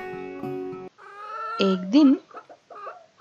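A hen gives a few short clucks and bursts of cackling, close and fairly quiet, with a brief spoken voice mixed in.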